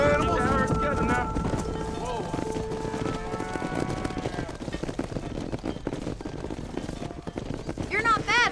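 Horses gallop while herding cattle in Red Dead Redemption, with rapid, continuous hoofbeats close by under shouted voices, and a horse whinny near the end.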